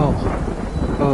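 Timefall rain pours and thunder rumbles in the video game Death Stranding, a loud, dense roar with deep low rolls underneath and no break.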